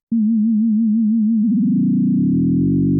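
A pure synthesized tone from a Yamaha DX7 wavers with a quick vibrato, then the wobble speeds up until the pitch turns rough and buzzy, growing richer.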